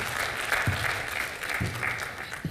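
Studio audience applause on the set of a Hindi TV comedy serial, a steady wash of clapping with low thumps underneath, moderately loud and without talk.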